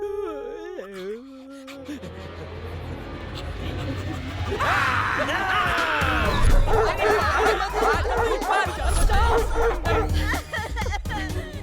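Dogs bark amid a busy, noisy film scene, with people chattering and laughing over them.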